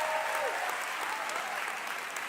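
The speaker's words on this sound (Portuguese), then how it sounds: "Aplauda o Senhor bem forte aí!" Crowd applause at a church youth missionary gathering, a dense steady wash of many hands clapping throughout, fairly loud and even, with a brief tonal whistle-like sound near the start.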